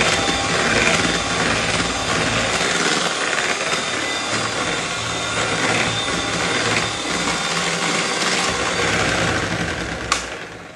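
Electric hand mixer beating chocolate ganache into cream for a mousse, a loud continuous whirring drone with a slightly rattling texture that holds steady throughout.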